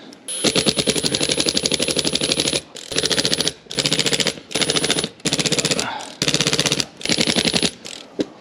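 A power driver runs screw-in studs into tires in a shop, loud rapid rattling bursts of a few seconds each, separated by short pauses, close and dominant.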